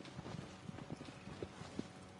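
Horse hooves clip-clop at a steady walking pace in Shadow of the Colossus on PS5, with soft, evenly spaced thuds sitting close and moderately loud over a constant ambient wash.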